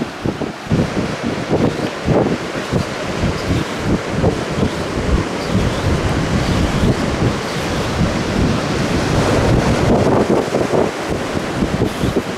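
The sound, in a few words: ocean waves crashing against the coast in Porto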